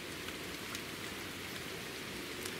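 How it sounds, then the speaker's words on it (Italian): Steady rain falling and pattering on surfaces outdoors, a continuous dense hiss filling the whole stretch with no voices. "adesso mi sta bagnando tutto questa pioggia."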